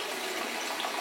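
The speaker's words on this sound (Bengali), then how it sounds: "জলটাকে পরিমাপ মতো দিতে হবে, খুব বেশিও দেওয়া যাবে না" Water pours steadily into a cooking pot, a continuous splashing rush that stays even and fairly close throughout, with no talking.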